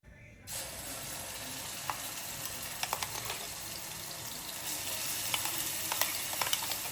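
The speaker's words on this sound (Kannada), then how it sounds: "ಎಣ್ಣೆ ಬಿಟ್ಟು ಒಗ್ಗರಣೆ ಹಾಕೋದು ಅಷ್ಟೆ" Spices tempering in hot oil for a Kannada home-cooked dish, a steady close sizzle with scattered crackles and pops that grows a little louder toward the end, with no voices.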